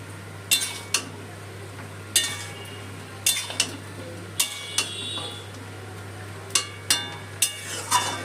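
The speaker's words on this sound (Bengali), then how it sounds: "জলের সাথে সবজিটা একটু নেড়ে মিশিয়ে নিলাম" A spoon stirs jackfruit seed curry with a little added water in a metal pan, giving a string of sharp utensil scrapes and clinks spaced a second or so apart over a low steady hum.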